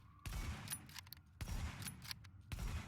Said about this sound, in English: we'll fire as fast as we can and see how much the weapon lifts